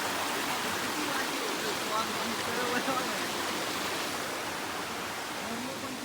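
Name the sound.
waterfall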